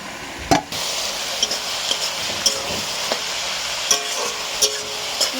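Carrots and vegetables frying in a pan for veg chowmein while water cooks off, a steady dense sizzle broken by several light clicks of a spatula on the pan.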